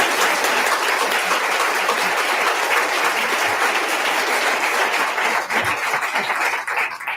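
Audience at a Lakewood city council meeting breaks into loud, sustained applause, a dense wash of many hands clapping that holds steady for the whole stretch and thins slightly at the very end.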